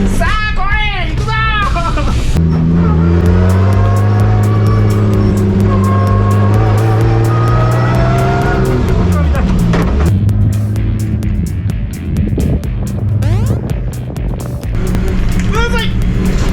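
A lightened race car accelerates on a circuit, its engine note climbing through rising harmonic sweeps and staying loud and close for most of the run, with a brief shift around the middle.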